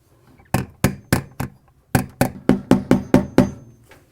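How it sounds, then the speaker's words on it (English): A hammer taps a seal installation tool about a dozen times to seat a new lip seal in a Maytag washer, sharp ringing strikes coming in a steady rhythm after a brief pause, close and clear. "Use a hammer to gently tap in on the new seal assembly."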